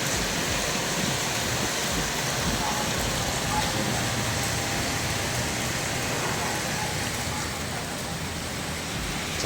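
Steady heavy rain pours down around a house with a leaking ceiling, a dense unbroken hiss that stays loud and even from start to finish.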